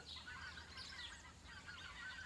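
Geese honk repeatedly at a distance over a steady low outdoor rumble, their calls overlapping in loose bursts with no talking.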